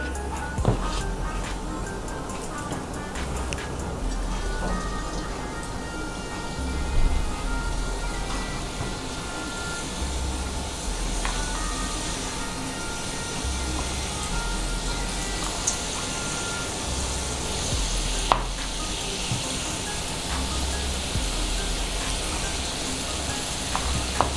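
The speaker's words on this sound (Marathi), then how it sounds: "तेल गरम झालेले आहे. यामध्ये मी आता हे मोदक सोडते." Modak dumplings deep-frying in hot oil over medium-high heat, a steady close sizzle and bubbling that runs throughout with occasional small pops and no talking.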